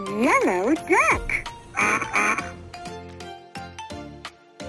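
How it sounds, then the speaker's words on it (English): Cartoon duck quacks from a children's animal puzzle game, a run of bright, wobbling quacks up front followed by rhythmic game chimes and short musical notes. "Yellow duck."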